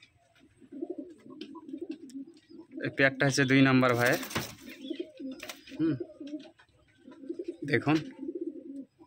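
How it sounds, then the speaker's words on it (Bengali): Male and female pigeons cooing close by, a few soft throaty coos between stretches of someone talking, with one louder burst of calls in the middle. "এই হচ্ছে দ্বিতীয় পায়রা, দেখুন নর পায়রা"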